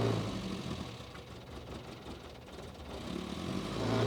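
1967 MG Midget engine idling with the choke out just after startup, a steady low burble that swells slightly at the end, moderately quiet with no talking.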